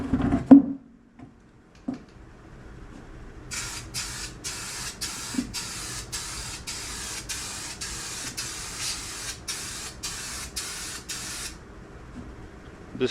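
A Turbo bedliner spray can coats a car hood in a run of short hissing bursts with brief gaps between them, close and steady against a low background hum.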